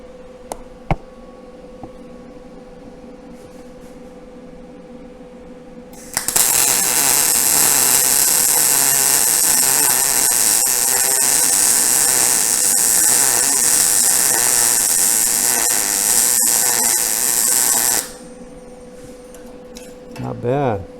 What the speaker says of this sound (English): Let's put down a little weld.